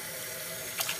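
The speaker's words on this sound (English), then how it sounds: "Here am I adding water" Tap water pouring steadily into a pot of vegetables, including broccoli, in a home kitchen, a close continuous rush with a brief brighter splash near the end.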